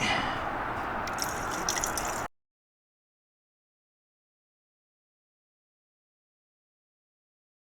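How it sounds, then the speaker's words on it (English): Water pours and trickles briefly into a BMW M140i's car coolant reservoir close by for about two seconds, then stops abruptly into silence. "So we'll fill it up with a bit of water."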